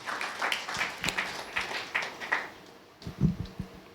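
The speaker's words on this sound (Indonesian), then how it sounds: "Tepuk tangan yang meriah buat Yesus." A church congregation applauds in scattered, moderately faint bursts of clapping during a service, fading briefly before a few louder claps and thumps near the end.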